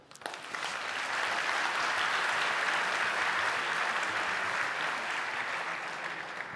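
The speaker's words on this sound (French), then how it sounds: "Vous pouvez l'applaudir" Steady audience applause fills a conference hall in Nantes, a dense wash of many hands clapping that rises quickly, holds loud for several seconds, then eases slightly.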